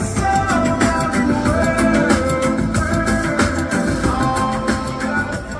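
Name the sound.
JL Audio speakers and subwoofers playing on a Caymas 26HB boat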